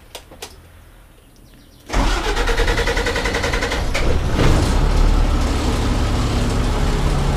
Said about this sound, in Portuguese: Eu vou ligar o carro ali, porque é importante estar ligado por conta que ele é pneumático